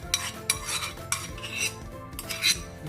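A metal cooking pot is scrubbed and rinsed clean in a kitchen, giving bursts of scraping and clinking close by, several short strokes in an uneven rhythm, with no talking.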